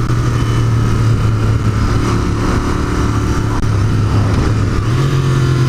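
A Royal Enfield Continental GT 650 motorcycle's parallel-twin engine runs loud and close, holding a steady, throaty rumble with slight swells in revs and a brief rise near the end, with no voices over it.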